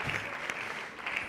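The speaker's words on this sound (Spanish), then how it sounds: "Fort aplaudiment para los dos còmics." A comedy roast audience claps for two comedians, a steady wash of applause heard at moderate distance without speech on top.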